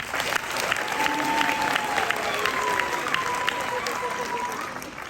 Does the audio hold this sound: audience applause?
yes